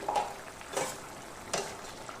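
A spatula stirring chopped chilli into simmering chicken keema makes three separate scraping strokes over a soft bubbling sizzle, close and fairly quiet.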